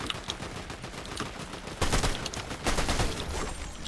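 Fortnite gunfire crackles in dense rapid volleys at moderate distance, with heavier bursts punching through partway, a sustained chaotic firefight with no talk over it.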